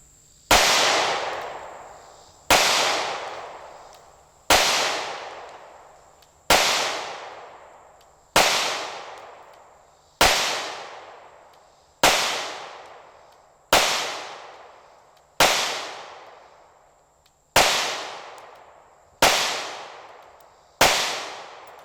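A Sig Sauer P320 9mm subcompact pistol fires twelve loud, sharp shots at a steady pace of about one every two seconds, each one ringing out into a long fading echo outdoors.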